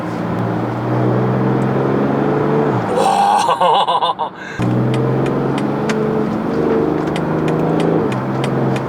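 A BMW X5 30d mild hybrid engine in sport mode drones steadily at close range, drops into a burbling rev for a moment, then settles back into a low, even hum.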